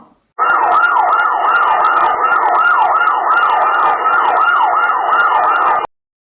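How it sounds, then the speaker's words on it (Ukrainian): Ambulance siren wailing loudly and continuously for about five seconds, a steady rising-and-falling two-tone sweep with no voices over it, ending abruptly. "Вірно, дітки, це машина швидкої допомоги."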